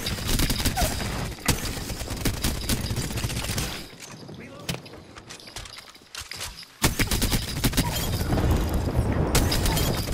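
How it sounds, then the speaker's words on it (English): Rival squad gunfire in Apex Legends rattles in dense, sustained volleys with booming impacts, eases into a quieter patch of scattered shots, then surges back to heavy fire, with game voices underneath. "I think that's the other squad, Barat, shooting at me"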